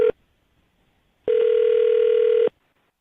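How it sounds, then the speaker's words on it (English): A telephone line gives a steady, loud ringback tone: one short beep, a pause, then a longer unbroken tone of about a second that cuts off abruptly, heard alone with no talk. "I'm going to dial her phone number right now"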